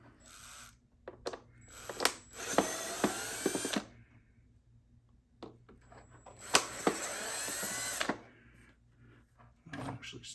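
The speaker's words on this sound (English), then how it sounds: "this will be where I unscrew it from here." Power drill backing screws out of a Bissell Power Trak 6592 vacuum: two sustained whirring bursts of a few seconds each, close and fairly quiet, separated by small clicks and handling noises.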